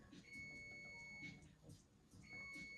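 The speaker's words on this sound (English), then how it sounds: "Excuse my beeping. That's my pizza telling me it's ready." Repeated electronic beeps from an oven timer, a few evenly spaced high tones pulsing over a faint background hum.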